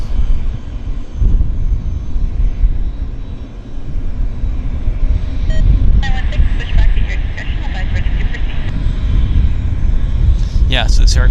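A jet aircraft at Vancouver airport gives off a loud, steady low engine rumble that fills the scene while people talk nearby.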